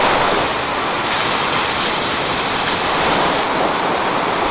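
Sea waves breaking and washing onto a beach in Busan, South Korea, a steady loud surf roar with wind rushing across the microphone and no voices.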